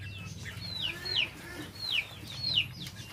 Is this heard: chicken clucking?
yes